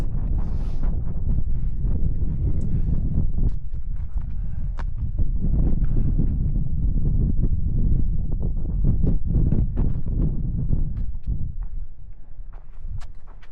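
Strong wind buffets the microphone on a mountain hiking trail on the Pacific Crest Trail near Apache and San Jacinto, a loud, continuous low roar with gusty rumbles and faint scattered knocks, with no voice heard.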